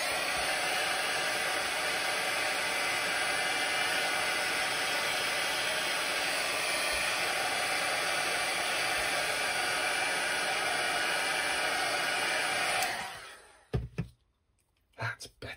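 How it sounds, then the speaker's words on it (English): A heat gun blasts steadily on wet ink on a paper-pieced art journal page, a loud close whooshing hiss that runs for about thirteen seconds before cutting off, followed by a few soft handling knocks. "I might just need to give that a blast with my heat gun"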